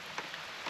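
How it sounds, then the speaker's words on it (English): Heavy rain pours down in Bankhead National Forest, making a dense, steady hiss with a few slightly louder drop impacts standing out over the wash. No one speaks. "It's starting to rain hard."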